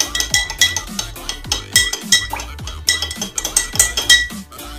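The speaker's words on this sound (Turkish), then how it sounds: "Şimdi karıştırıyoruz." A spoon stirring salt into water in a bowl, giving repeated close, bright clinks and scrapes against the bowl in a steady, uneven rhythm with no voices.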